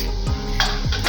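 Red chili powder and black masala sauté in a pan, with a steady sizzle and a few spoon scrapes and stirring sweeps, close and without talk.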